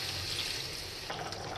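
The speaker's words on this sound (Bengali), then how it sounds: "পানি দিয়ে দিলাম।" Water is poured into a pot of chicken curry with jackfruit seeds, giving a steady close-up splashing, pouring rush that runs throughout with a brief shift near the end.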